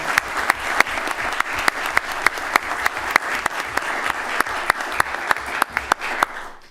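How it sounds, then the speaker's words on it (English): A round of applause from attendees at a city council meeting, dense clapping sustained for several seconds with sharp individual claps standing out, then tapering off at the end. "let's give him a round of applause, right?"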